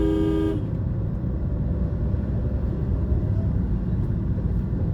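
A short, loud car horn honk at the very start, then the steady rumble of an engine running.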